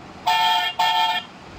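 Electronic car horn from a children's learning book, two short loud honks in quick succession, close and clean with no other sounds.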